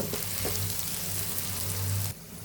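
Onions and eggs fry in a pan with a steady, close hiss and a low hum beneath it. The hiss drops off abruptly near the end, and no one speaks.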